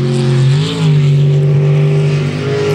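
A race car engine roars close and loud as it accelerates along a track, a sustained tonal drone that dips briefly with a gear change and then climbs again; no talking.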